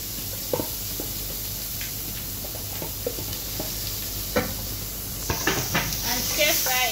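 Chopped onions, a quarter cup, sizzling in hot oil in a pan, giving a steady close hiss with occasional stirring clatters and a brief louder sputter near the end, over a faint background voice.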